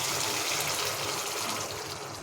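Water pours steadily into a pan of spicy mustard-poppy pointed gourd curry, a continuous close rushing splash with no talk.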